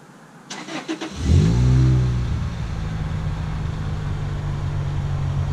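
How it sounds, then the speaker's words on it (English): A car's engine cranks briefly, then fires and revs up through a newly installed exhaust on a GTS, settling into a loud, steady idle rumble close to the listener. "Parts car exhaust on his GTS installed."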